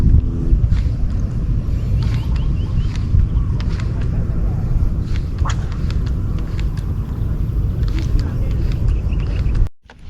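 Strong wind buffets the microphone at a riverside fishing spot, a constant loud low roar that fills the whole clip before cutting off abruptly near the end.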